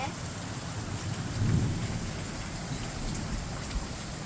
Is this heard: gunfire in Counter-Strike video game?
no